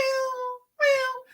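A cat meows twice, two clear, drawn-out tonal calls close by with a short silent gap between them, alone with no talk over them.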